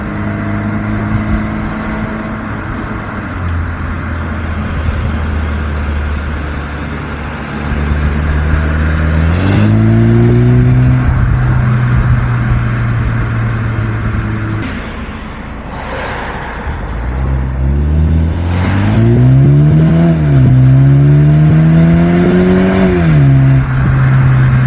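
A BMW 330i sedan accelerates hard from 0 to 60, its engine revving up loudly through several rising gear pulls with brief drops at the shifts, close and with no talking.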